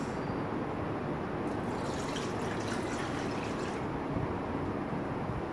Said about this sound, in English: so you pour the water first